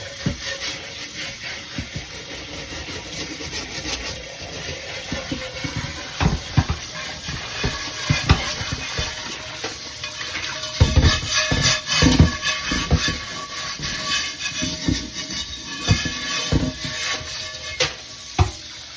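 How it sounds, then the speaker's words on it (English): A cast iron pan is scrubbed while being rinsed under running water, a continuous close hiss of water mixed with rough rhythmic scrubbing strokes and occasional knocks against the pan. "So I'm going to keep scrubbing this as I rinse it."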